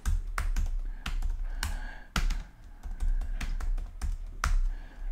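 Keys clatter on a computer keyboard as Elixir code is typed, in close bursts of quick taps with short pauses between them and no voice.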